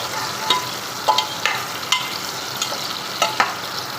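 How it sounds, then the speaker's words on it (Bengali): Potatoes fry in a pressure cooker, a continuous sizzle punctuated by about eight light clinks and scrapes of a spoon stirring against the pot. "আলুটাকে এবার হালকা হালকা নেড়ে চাপা দিয়ে দিয়ে ভালো করে একটু ফ্রাই করে কুক করে নিতে হবে"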